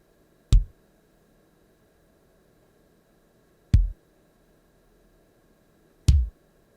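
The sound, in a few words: kick drums from Korg Triton synthesizer plugin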